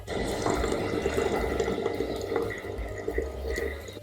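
A DIY home-made aquarium waterfall filter with its air pump running gives a steady, close wash of trickling, bubbling water with a low hum underneath. It continues evenly throughout with no voices.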